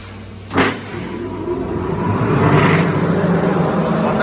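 A grain dryer blower for paddy rice switches on with a short bang, then builds into a steady, loud rush of blowing air that continues without pause.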